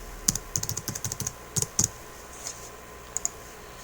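Quick bursts of keystrokes on a computer keyboard, a rapid run of close clicks followed by a few separate taps, with no speech.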